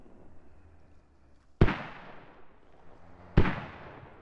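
Video game artillery firing smoke rounds at a bridge: two heavy booming shots about 1.8 seconds apart, each a sharp loud blast with a long decaying rumble, over a quiet background.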